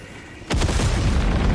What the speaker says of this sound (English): Calling in a hell bomb.